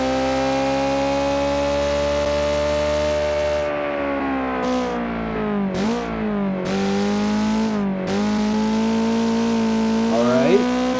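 A modern sports car engine in the BeamNG driving game screams at its red line, bouncing off the limiter for long sustained stretches with brief dips and re-rises, loud and close throughout.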